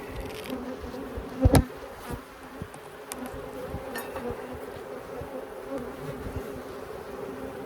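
Many honeybees humming steadily up close on a hive frame, a thick constant drone with a sharp knock early on and faint handling noises.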